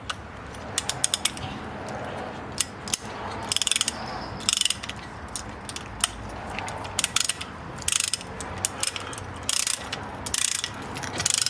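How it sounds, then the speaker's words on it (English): A front brake caliper piston on a 2017–2020 Ford Fusion Hybrid or Energi is forced back with a ratcheting tool, giving irregular clicks and creaks over a steady low shop hum, with no talking. "Compressing that piston."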